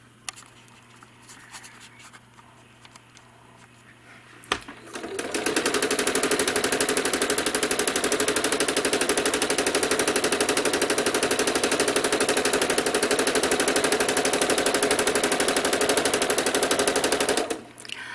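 A home sewing machine stitching quilting curves in a spiral, starting after a quiet pause and then running in a steady, loud, fast mechanical rattle for about twelve seconds before stopping abruptly.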